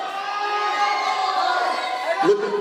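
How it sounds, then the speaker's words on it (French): Wrestling fans at a strap match cheer and shout steadily for a struggling wrestler, a dense crowd roar that holds at moderate level throughout. "Faites un peu de bruit, applaudissez Tyron."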